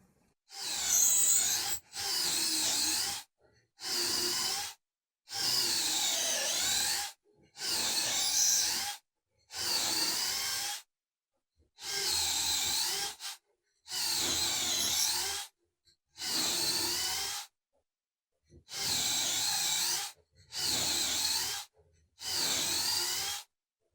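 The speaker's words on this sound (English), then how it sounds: "we've got our dowel holes drilled in 2 of the legs so far" A drill bores dowel holes into white oak nightstand legs through a jig and a clamped sacrificial board. Loud bursts of roughly a second each repeat about a dozen times, separated by short silent gaps.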